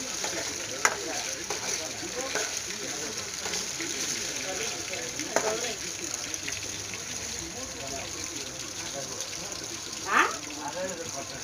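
Pieces of meat frying in oil until golden brown, a soft continuous sizzle held at a low level for the whole stretch, with a few faint clinks and stirring touches scattered through it.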